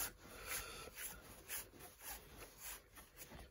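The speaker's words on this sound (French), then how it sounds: "Donc là, je frotte un peu partout. Voilà, pour bien enlever le gras." Rhythmic brushing strokes work grease off a motorcycle chain, a steady back-and-forth scrubbing repeated about every half second, fairly quiet and close with no talking.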